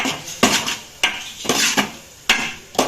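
Soybean gobi being tossed with masala and soy sauce in a metal pan: loud, close spoon clanks and scrapes against the vessel, coming in irregular strokes with no one speaking.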